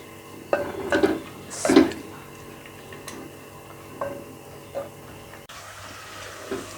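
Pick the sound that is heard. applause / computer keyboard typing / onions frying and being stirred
onions frying and being stirred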